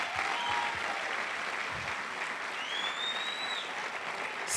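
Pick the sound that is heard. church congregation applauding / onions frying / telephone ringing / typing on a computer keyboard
church congregation applauding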